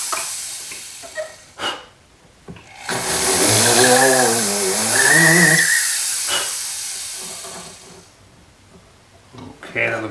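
A handheld rotary tool with a ball burr widens a small pilot hole in a pin, making a rising and falling high whine for a few seconds between bursts of quieter handling noise.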